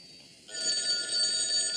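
A telephone bell rings, a bright continuous metallic trill that starts abruptly about half a second in and holds steadily to the end.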